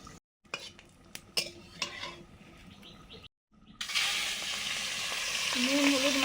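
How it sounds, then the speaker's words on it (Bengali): Salt-and-turmeric coated shrimp dropped into hot oil in a pan start to fry, a loud steady sizzle swelling after a few clinks of utensils and a brief pause. "নুন হলুদ মাখানো চিংড়ি মাছ দিয়ে দিলাম।"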